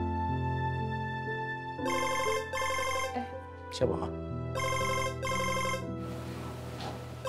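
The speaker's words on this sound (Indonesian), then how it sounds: "telepon." Telephone ringing in a home at night, with repeated bursts of bright electronic ring tones over a background music bed and a brief spoken question between rings.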